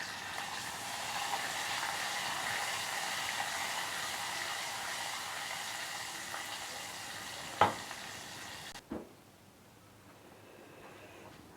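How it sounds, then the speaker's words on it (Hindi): Curry leaves, green chili, cumin and kalonji sizzling in hot oil for a tempering, a steady close crackling hiss that cuts off abruptly near the end after a couple of sharp clicks. "अब इसमें कड़ी पत्ता हम डालेंगे 5 से 6, हरी मिर्च डालेंगे, ज़ीरा और कलौंजी।"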